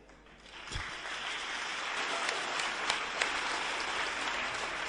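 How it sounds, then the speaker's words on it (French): Steady applause from an audience swells up after a brief quiet start and keeps going evenly, a dense wash of clapping. "Pendant que vous vous applaudissez"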